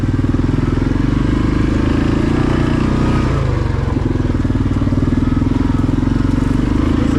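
A 2020 Yamaha Grizzly 700 ATV engine drones loud and steady while riding through storm-damaged woods after Hurricane Sally, a continuous low rumble with no pauses.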